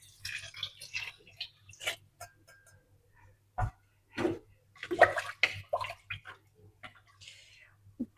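Water poured into a pot of rice for a home-cooked mint pulao: short splashing bursts at close range, separated by quieter gaps with faint clinks.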